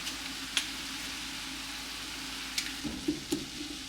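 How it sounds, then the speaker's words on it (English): Ground meat browning in a pan over medium heat, a soft steady sizzle with a few scraping clicks of a utensil stirring and breaking up the meat. "Just want to make sure all your meat is browned up"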